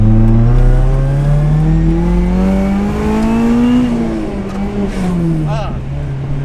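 A Toyota Corolla AE71 with a 4A-GE engine revs loud and close from inside the car, its pitch climbing steadily then sagging as gears are missed.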